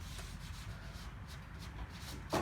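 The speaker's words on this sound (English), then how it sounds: "I have been sanding on the edges" Hand sanding rubs softly and steadily along wooden edges near end grain, a faint continuous scratchy swish with slight strokes and a brief louder scrape at the end.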